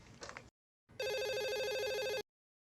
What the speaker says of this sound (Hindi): अरे टेलीफोन भी है इस घर में।